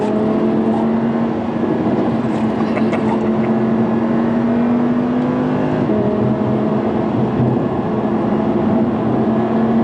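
A 2016 Audi R8 V10 Plus engine drones steadily on a trailing throttle while driving through heavy rain and floods, a loud, close, continuous burble with a slight pitch shift midway.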